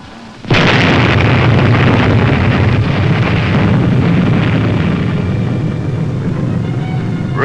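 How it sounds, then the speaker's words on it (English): Nuclear test blast from Operation Plumbbob: a sudden, massive roar bursts in after a brief near-silence and rumbles on, broad and sustained, for the rest of the clip with no letup. "Brilliance of the sun, the awesome sound and fury of the atoms split apart. This is nuclear explosion."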